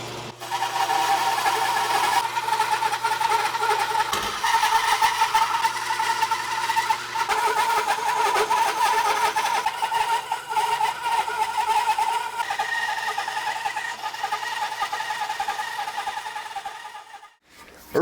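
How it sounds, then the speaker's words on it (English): Power saw cutting a wooden guitar body shape, a sustained whining buzz that wavers in pitch as it moves through the wood, running nearly continuously before stopping abruptly. "I think we're gonna cut this body shape out before we start routing on that."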